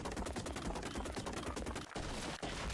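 Rapid, relentless metallic impacts from mining metal rocks on a mountain in the video game Pokémon ARK. The hits run loud and close in a dense stream, with two brief gaps near the end.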